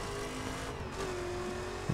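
A stock Corvette in the racing game The Crew accelerates with a steady, sustained engine drone at moderate loudness, the pitch holding fairly level, with no voices heard.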